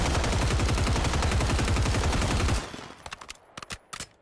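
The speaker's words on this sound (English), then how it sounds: "just in that sort of firework sound effect that you can hear when you shoot the gun" Rapid automatic gunfire from the Superior weapon in Call of Duty MW3, loud dense bursts with a crackling firework-like effect for over two seconds, followed by a few scattered sharp pops as it fades.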